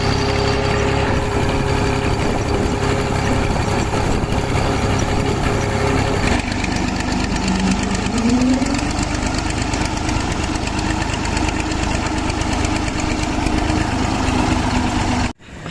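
A tractor engine idles loudly and steadily with a rough, chugging rumble by a main road, shifting slightly midway before cutting off abruptly at the end.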